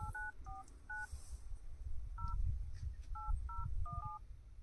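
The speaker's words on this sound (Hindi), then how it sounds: "फ़ोन मिलाना है इसके ऊपर," Dual-tone telephone keypad beeps dial a SIM card fitted in a solar water-pump motor auto switch, about nine short crisp tones in irregular groups over a low background rumble.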